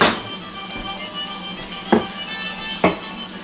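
Pork fingers browning in a frying pan give a steady close sizzle and crackle, broken twice by brief louder bursts of spitting fat.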